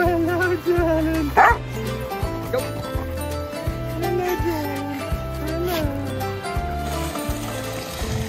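Pug dogs at a first birthday party give a few yips and barks over a loud, steady musical backdrop, with a short sharp burst standing out early on.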